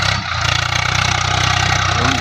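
A Swaraj 742 XT tractor pulls a nine-tine cultivator through a wet field in high gear, its engine a loud, steady, rhythmic throb close by throughout, with no talking over it.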